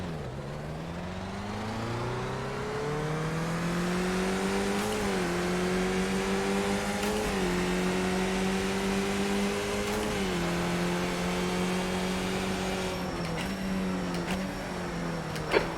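Race cars in a racing video game accelerate off the start, engines droning loud and steady as the pitch climbs through several gear shifts with brief dips, one continuous roar that fills the whole stretch.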